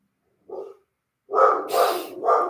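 A dog barks: one short bark, a pause, then a louder run of three barks close by indoors in a studio room, with no talking over them.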